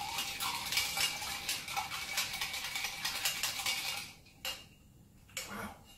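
A utensil stirs a ginger pineapple rum cocktail made with Captain Morgan rum, giving quick rhythmic metallic clinks and scraping against the glass, close and clear, then a few separate taps as the stirring stops.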